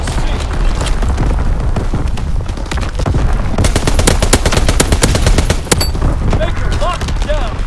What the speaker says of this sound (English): Anti-aircraft battery in position. Ready to capture the skies on your order. Firing for full effect.